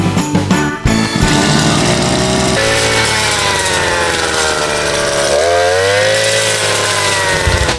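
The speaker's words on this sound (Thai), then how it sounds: "ด้วยเครื่องตัดหญ้าแบบสายสะพาย 2 จังหวะ" A Koshin EBC-43U two-stroke shoulder brush cutter roars steadily at close range while cutting grass, its high engine whine rising and dipping slightly as the throttle shifts.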